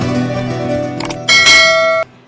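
A subscribe bell-icon notification effect: a short, bright ringing chime with a sharper second strike that cuts off abruptly, loud and alone.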